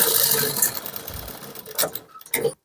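A sewing machine stitches a kurti in a close, steady mechanical whir that runs for about two seconds, then stops briefly and starts again in short bursts.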